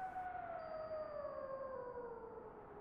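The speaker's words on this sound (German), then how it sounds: "Klingt ein bisschen wie eine Sirene, oder?" A siren-like tone from the strategy video game The Battle of Polytopia, a faint, smooth wailing pitch that slowly glides downward over about three seconds, sounding alone.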